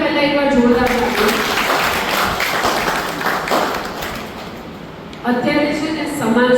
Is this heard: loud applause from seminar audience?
yes